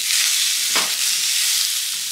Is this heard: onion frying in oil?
yes